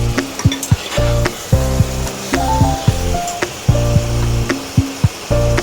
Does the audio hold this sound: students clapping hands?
no